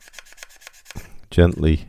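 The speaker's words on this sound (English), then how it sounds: "You can come in, if it's not too bad, with a sanding stick" A sanding stick rubbing soft plastic on a Tamiya M1A2 Abrams model kit to smooth out a fingerprint, with faint short strokes followed by two louder, close scraping passes, and a voice speaking briefly.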